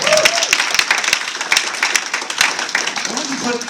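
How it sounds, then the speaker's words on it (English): Audience clapping at a comic convention awards ceremony, a lively burst of many hands with some voices and chatter mixed in, fairly loud and close, thinning slightly toward the end. "Big round of applause for Dennis."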